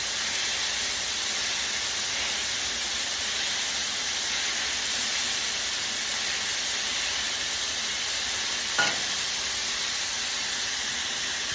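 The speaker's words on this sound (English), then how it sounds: "Two at a time. Hear that sear." Hamburger patties searing two at a time on a hot Blackstone griddle, giving a steady, loud, even sizzling hiss that fills the whole stretch with little change, plus one faint tick near the end.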